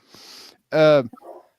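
A pet dog gives a short bark at close range in a home, preceded by a breathy whimper-like sound and followed by a faint trailing yip.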